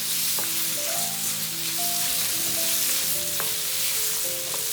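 Carrots and frying food being stirred in a hot pan, a dense continuous hiss of sizzling oil with a few faint utensil taps, steady and close.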